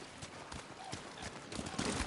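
Hooves of the horse Nobu galloping in Ghost of Tsushima, a steady rapid clip-clop of a run over a continuous game background, with no talk.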